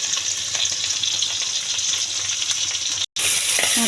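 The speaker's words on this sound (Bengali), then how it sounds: "টমেটোগুলো ভাজা হয়ে গেছে" Ripe tomatoes frying in a pan with dried red chillies, green chillies and black cumin, a steady close hiss of sizzling oil that runs unbroken apart from one short gap near the end.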